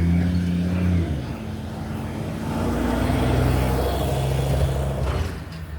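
A truck passing on a road during a morning walk, a low rumbling engine that swells in the middle and fades, heard from nearby over outdoor ambience.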